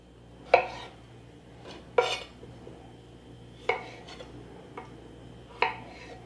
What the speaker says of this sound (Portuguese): Coloque as batatas na forma e misture.